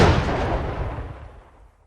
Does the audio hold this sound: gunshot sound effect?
yes